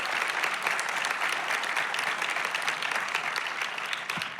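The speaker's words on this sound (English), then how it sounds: "another round of applause for it's an amazing, powerful film" Audience applause follows a documentary screening at a Q&A: a dense, even wash of clapping hands that holds steady throughout at moderate volume, with no voices on top.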